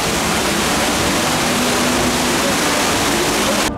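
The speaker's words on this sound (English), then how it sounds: "There's some absolutely beautiful waterfalls here at the Wynn" Waterfalls by the entrance of the Wynn on the Las Vegas Strip pour with a loud, continuous rushing hiss of falling water, close and steady throughout with no voices.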